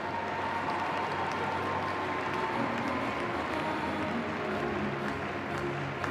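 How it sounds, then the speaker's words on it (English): Arena crowd at an indoor carriage driving World Cup competition in Geneva applauding a lap of honour: a dense, continuous wash of clapping and crowd noise, steady and fairly loud for about six seconds, with no clear voices on top. "Sous vos applaudissements, c'est parti, Genève."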